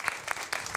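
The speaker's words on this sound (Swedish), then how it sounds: "En applåd för Maria." Audience applauds as a speaker is welcomed onto the stage at a panel event on the sharing economy and waste systems, steady brief clapping from a crowd.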